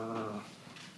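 A man growls low and harsh in his throat for about half a second, imitating an animal, then falls quiet; the growl is close and fairly faint.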